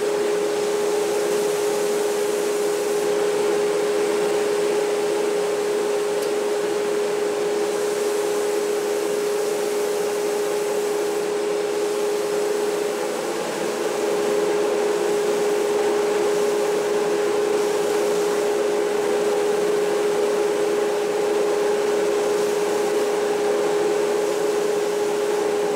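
A deadhead sander grinds away at a guitar neck as it is shaped, a loud continuous motor whine with a steady tonal hum and a rough abrasive hiss, close and unbroken, without speech.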